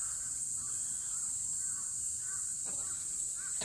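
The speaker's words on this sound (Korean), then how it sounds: "까마귀 소리 때문에 겁나?" Crows cawing outdoors over a grassy lawn, several harsh calls spaced in an irregular rhythm, moderately far, over a steady high-pitched insect-like background hiss.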